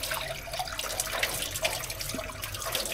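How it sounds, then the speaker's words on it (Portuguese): Water is poured over a painted drawing to rinse away the yellow layer and reveal the design, a steady close splashing hiss lasting the whole moment with no talk. "jogando água."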